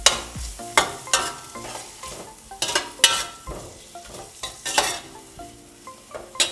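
Onions sauté in a pan for a fish curry, a soft sizzle under loud, irregular scrapes and knocks of a spatula stirring against the metal, with no one talking.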